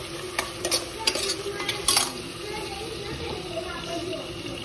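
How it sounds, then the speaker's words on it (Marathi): A spoon stirs vegetables, whole garam masala, curry leaves, onion and tomato in hot oil for pulao, with a few quick scraping strokes early and then a steady close sizzle. A quiet voice may be faintly present. "भाज्या सगळ्या मी मिक्स केलेल्या आहेत।"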